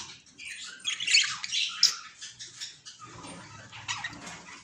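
A breeding pair of crested parrots squawking in a cage at a bird sale, with harsh, shrill calls coming in rapid overlapping bursts, loud and close, followed by softer chattering and scuffling.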